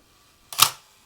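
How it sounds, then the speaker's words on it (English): Konica Acom-1 film SLR camera firing, a single sharp mechanical clack of the mirror lifting and shutter releasing, close and crisp, in an otherwise quiet room. "you'll see the mirror lifts out of the way while the shutter counts at typically 10 seconds"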